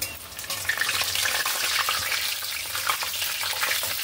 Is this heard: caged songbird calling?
no